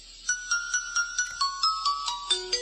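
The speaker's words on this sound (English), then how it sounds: "you can make the ringtone." A smart doorbell ringtone plays from a phone app as a bright, tinkling melody of about a dozen evenly spaced chime notes that step downward in pitch, clear and alone over quiet background hiss.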